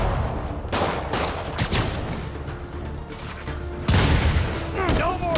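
Rockets fire and explode in Marvel's Spider-Man on PS4: dense bursts of booms and rapid gunfire-like crackle, loud and continuous, with a heavier blast near the end.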